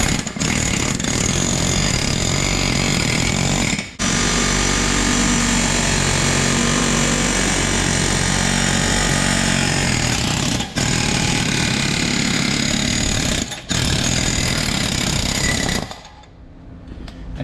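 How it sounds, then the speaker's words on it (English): Pneumatic air hammer driving a pin out of the ripper on a high-hour forklift, a loud continuous rattling hammering that runs steadily with a few brief pauses before stopping near the end. "I'm going to give it a shot with the air hammer and see if we can get that pin shot out of there"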